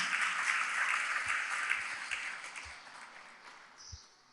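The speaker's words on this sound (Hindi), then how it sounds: "तो उसके लिए एक बार जोरदार तालियां बजाएं।" Audience applauds at a Jain religious discourse by a nun, broad steady clapping that slowly fades toward the end, with no talk over it.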